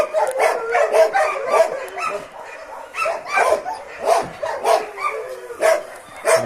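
West Siberian Laika dogs bark repeatedly at a moderate distance, a steady run of sharp barks and yips in an irregular rhythm with a voice talking over them.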